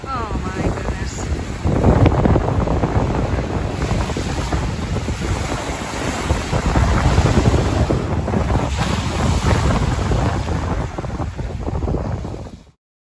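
Strong wind at a Lake Michigan beach at Petoskey State Park, loud buffeting gusts hitting the microphone over surf, roaring continuously before cutting off abruptly at the end.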